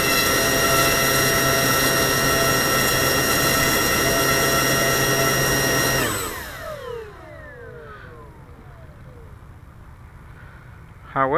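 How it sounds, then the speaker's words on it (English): An eFlite 1.2M Spitfire RC plane's electric motor whines steadily at full throttle for about six seconds, then spools down with falling tones into quiet background noise. "Advancing the throttle, full throttle."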